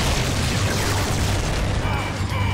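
Zord blast effect from a Power Rangers Dino Fury show, a loud, continuous rumbling boom that fills the whole moment and fades slightly at the end.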